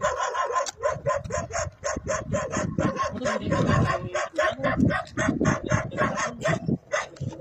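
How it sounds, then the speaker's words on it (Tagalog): A dog barks repeatedly in quick bursts at night, close by, with some yips mixed in and faint background noise. "may aso"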